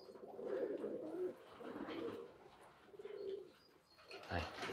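Pigeons coo in low, repeated throaty phrases near the loft at dusk, fairly close and soft, with a brief fluttering sound at the end and no talking.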